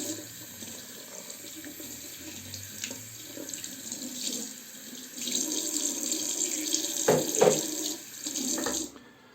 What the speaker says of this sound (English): I will leave the tap dripping a little bit